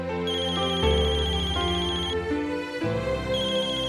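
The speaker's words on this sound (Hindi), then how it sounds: "तुम्हारा फोन बज रहा है।" A phone ringtone plays a steady electronic melody, loud and close, repeating continuously with no voices.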